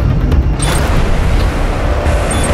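A hostile armored core mech is destroyed in Armored Core VI: Fires of Rubicon, and a loud, dense rumbling explosion with crackling debris fills the whole moment close up.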